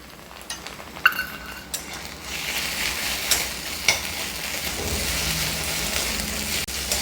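Ground spice paste of dried red chilli, ginger and garlic sizzles steadily with chopped onions in a pan, with a few sharp clinks of a utensil stirring against the metal.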